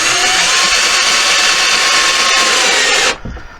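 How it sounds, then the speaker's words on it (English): A power drill drives a screw into a wooden board, a loud close whine that holds steady for about three seconds and then cuts off, leaving faint handling noise. "then I drive the screw in to start with"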